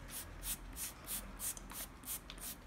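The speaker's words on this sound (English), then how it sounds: "Spray this cleaner onto the carpet." Carpet cleaner sprayed onto a coffee-stained carpet in about eight quick, evenly spaced hissing bursts, close and fairly soft, with no talking.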